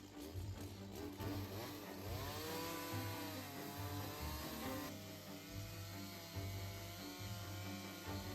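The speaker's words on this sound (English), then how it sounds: "we're going to use the chainsaw" A chainsaw roars steadily, its engine pitch rising and dipping as it bites into wood while restoring a stable at an Italian farmhouse, loud and close with no voices.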